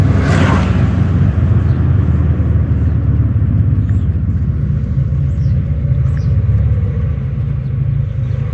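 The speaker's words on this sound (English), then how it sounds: "Crack the window here so we can hear a little bit of the car idling." 1987 Mercedes-Benz 300E W124 engine idling, a steady low rumble heard from inside the car with the window cracked, even and continuous throughout with a soft thump at the start.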